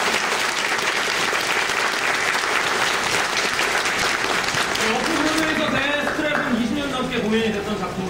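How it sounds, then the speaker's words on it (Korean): Loud, sustained audience applause fills a theatre at the curtain call of the closing performance of the play Deathtrap, then eases as a speaker's voice rises over the fading clapping. "저 뒤에 무대 팀까지 여러분 큰 박수 한번 부탁드립니다."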